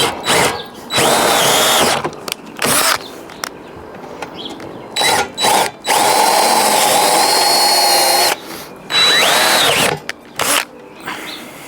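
A power drill whines loudly in repeated bursts of a few seconds each while boring a hole for a Fabtech overhead Molle rack on a Jeep JL, working up to a 1/4 inch bit, with short quiet gaps between runs.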